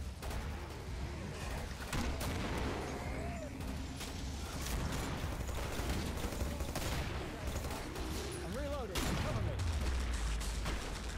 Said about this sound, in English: what are you using? Tommy gun.